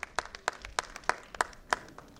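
Audience applause for qualified children at a Gurjar Mahasabha conference in Jaipur, a thin scattering of sharp individual claps in an uneven rhythm, fairly faint and distant with no talk over it.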